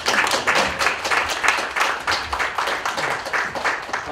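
Audience clapping for a guest introduced at a unification policy briefing, a dense and steady patter of many hands that carries on through the whole stretch at moderate loudness.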